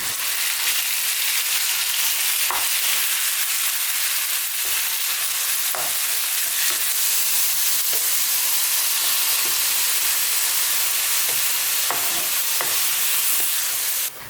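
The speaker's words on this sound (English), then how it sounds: "I'm adding 500 grams of minced beef and stir frying it well until it starts turning" Minced beef stir-fried with vegetables in a hot pan gives a loud, continuous sizzle and hiss, with occasional soft stirring scrapes throughout.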